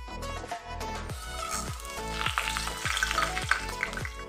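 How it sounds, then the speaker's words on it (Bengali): Whole spices crackle and sizzle in hot oil left from frying nuts, a close, steady hiss with sharp pops and spatters building toward the end, no talking. "এবার এই তেলটাতে আমি গোটা ফোড়নটা দিয়ে দেবো।"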